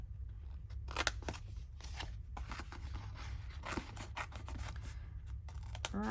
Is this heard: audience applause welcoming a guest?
no